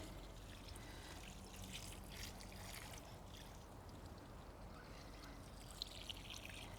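Liquid rose fertilizer is poured onto garden soil, a faint, steady trickle and gentle splashing that continues evenly throughout without any voices.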